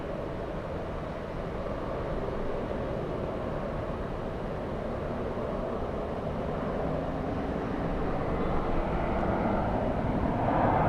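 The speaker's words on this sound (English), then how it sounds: "that is JetBlue 387 flying in from Boston" JetBlue airliner arriving overhead from Boston at LAX, a steady broadband jet roar holding level for about eleven seconds and swelling slightly toward the end, with no voices.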